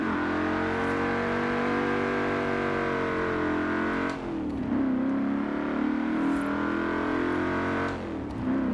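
Holden Commodore Group A with a 5-liter engine in Forza Horizon 4, droning at steady revs with two brief dips and pickups as gears change, loud and close.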